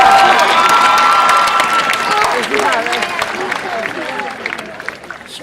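A high school graduation audience cheers and claps loudly, a dense wash of applause, whoops and shouting voices that slowly tapers toward the end.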